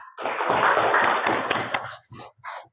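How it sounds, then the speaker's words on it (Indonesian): Children in a primary classroom burst into a dense round of applause lasting about two seconds, close and loud, followed by a couple of short sparse claps and a brief voice. "Tepuk tangan untuk Novan."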